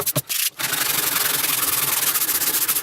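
Steady, rough rubbing of sandpaper on a 12-string guitar's wooden body, continuous and close, with a few brief knocks at the start.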